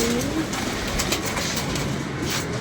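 Pigeons brought from Lahore coo and rustle in a steady, close wash of sound, with a soft whistle-like tone early on and no voices.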